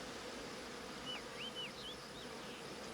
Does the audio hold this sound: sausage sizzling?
no